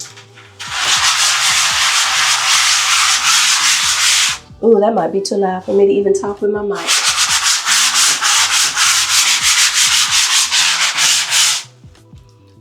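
Loud, close scrubbing of a bathroom surface, two long steady bursts of coarse rubbing separated by a short spoken pause, then fading out at the end.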